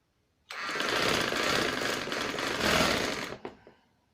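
Sewing machine stitching the fitting seam of a bridal maxi dress, running in one steady continuous burst for about three seconds before stopping, with a couple of short clicks at the end.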